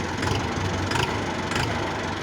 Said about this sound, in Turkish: traktörümüzü bir çalıştıralım. Sesini duyun. Nasıl ciğerli olduğunu duyarsınız.